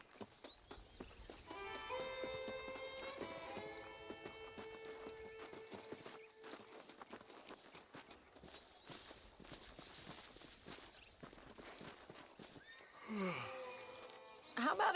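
Horse hooves clip-clop and a horse neighs in the Red Dead Redemption video game: a loud, drawn-out whinny early on, steady hoofbeats through the middle, then a second shorter neigh near the end.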